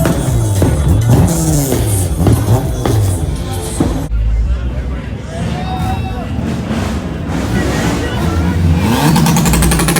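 A Hellcat engine fitted in a truck revs at a car show, loud, rising and falling in pitch amid other passing vehicles, while people talk nearby.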